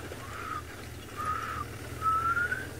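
A person whistles three rising, thin bird-call imitations, each a short upward-sliding note with pauses between, faint and alone over a low background hum.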